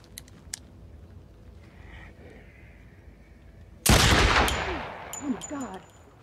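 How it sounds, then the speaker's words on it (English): A single loud, close gunshot from a scene in the film Rubber cracks out abruptly after quiet talk, followed by a ringing decay with faint chirpy tones. "Now point it at me and shoot."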